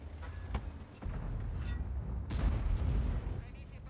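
Tank cannon firing in World of Tanks while driving an Object 260, a heavy booming shot erupting over rumbling engine noise, with a smaller crack earlier.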